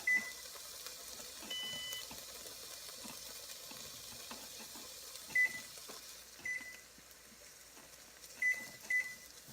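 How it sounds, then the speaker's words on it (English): A kitchen timer beeps in short paired electronic chirps, repeating several times against running water and kitchen background noise, moderately faint but distinct. "The timer is going off"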